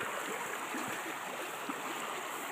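Water rushes steadily through an irrigation canal past an automatic control gate, a continuous, close, broadband gurgling flow with no breaks.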